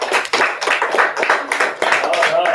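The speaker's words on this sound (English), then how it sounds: "Yeah, give her a round of applause." Students in a classroom give a brief round of applause, quick close claps in irregular bursts with voices mixed in.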